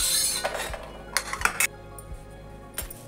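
A pan clatters as cluster beans roast with peanuts and chilies, sharp metallic clinks and scrapes scattered unevenly, a busier burst in the middle, then quieter with one last knock near the end, no speech.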